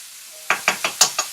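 Garlic scraped around a sizzling pan while toasting orzo with shrimp, five quick close scrapes in a steady rhythm over a low hiss.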